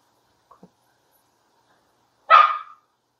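A single sharp dog bark sounds clearly in an otherwise quiet room, preceded by a couple of faint small noises.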